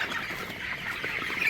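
Broiler chickens on a farm, 24 days old, cluck softly in a steady low murmur of the flock, faint and continuous at close range.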